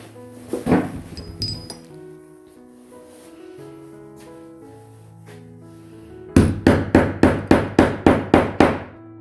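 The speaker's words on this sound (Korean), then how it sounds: "첫 번째 치즈날을 이 가죽에 딱 끝에 대고 이런 식으로 구멍을 뚫으시면 돼요" Hammer blows on a leather pricking chisel punching stitching holes for a vintage card wallet: a few scattered taps early on, then a quiet stretch, then about nine sharp, evenly spaced strikes close up, with no talking.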